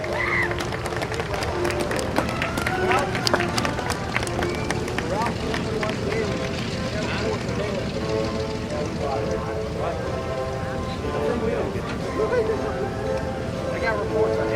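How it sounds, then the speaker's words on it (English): Air show spectators applaud veterans in a continuous patter of clapping and crowd noise, steady and moderately loud over the whole stretch, with voices mixed underneath. "let's have a round of applause so that they know we will always remember their sacrifice"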